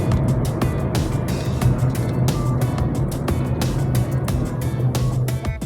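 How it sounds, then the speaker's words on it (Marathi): Heavy Monday-morning office-rush road traffic in a busy lane, heard as a steady, loud, close roar of engines and tyres with no break, and brief louder swells as vehicles pass. "ट्रॅफिक बघा किती आहे उजव्या लेनमध्ये"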